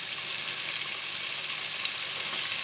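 Fish frying in oil in a pan on a stove at high heat, a steady, dense crackling sizzle that stays even throughout with no talking.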